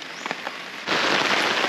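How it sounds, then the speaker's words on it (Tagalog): Steady rain falls, its broad hiss jumping from a light patter to a heavier, continuous downpour partway through, close and filling the background. "Mas lumakas yung ulan"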